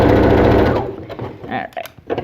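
A home sewing machine stitches a seam on a fabric scarf, a steady loud mechanical whir running for the first second before breaking into quieter intermittent clicks and handling noises.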